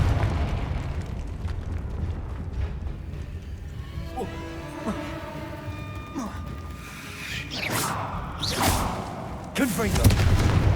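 A Confringo fire spell explosion in the Hogwarts Legacy video game, whooshing magical bursts and rumbling blasts amid mechanical game effects, moderately loud, with sharper flaring impacts near the end.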